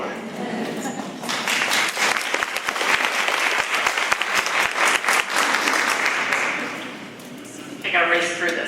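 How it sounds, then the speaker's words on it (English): An audience claps at a school district event, a steady wash of applause rising after the first second and holding for several seconds before fading as a voice begins speaking. "Applause is allowed, by the way."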